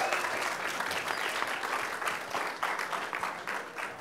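An audience at a squash fundraiser in New York claps steadily in warm welcoming applause, a dense sustained patter of many hands without voices.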